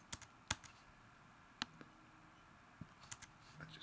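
Faint, sharp computer mouse clicks come while editing in GarageBand, about a dozen irregular taps spread over a quiet room with no speech.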